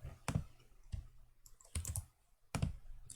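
Keystrokes on a computer keyboard while entering a spreadsheet formula in FreeCAD, a few soft clustered clicks and taps in a quiet room, close and fairly faint with pauses between bursts.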